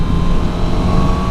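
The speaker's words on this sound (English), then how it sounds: "Bike is warmed up. It's been running for a little while now." A warmed-up Honda CBR1000RR-R Fireblade SP engine holds a steady loud drone at high revs, close and continuous, with no voices.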